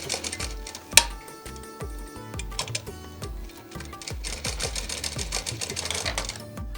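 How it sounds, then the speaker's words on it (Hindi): A sewing machine stitches a double seam on a skirt's elastic waistband, a rapid mechanical clatter in short bursts and runs, close and fairly loud, with no talk. "इसमें डबल सिलाई लगा देनी है"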